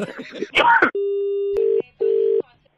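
A voice speaks briefly, then a click and a steady electronic phone tone sounds, breaking into a repeating beeping busy signal after hanging up.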